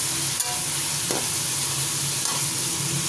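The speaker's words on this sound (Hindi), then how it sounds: "चिकन वाइट होने तक इसको भून लेते हैं" Chicken pieces frying in a pan until they turn white, a loud continuous sizzle up close with a couple of brief stirring scrapes.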